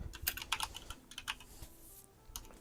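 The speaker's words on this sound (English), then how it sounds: "Have you been typing this into Homebrew this entire time, or just like a notepad?" Quick, irregular keystrokes on a computer keyboard come in close bursts with brief pauses, then a short faster flurry near the end, with no talking.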